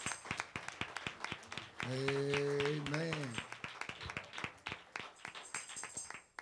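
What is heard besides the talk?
congregation clapping hands in church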